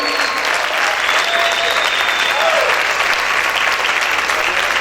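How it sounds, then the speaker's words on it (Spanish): A church congregation claps loudly and continuously, a dense wash of applause from a crowd with faint voices and cheers mixed in. "Grite y aplaude fuerte al Señor"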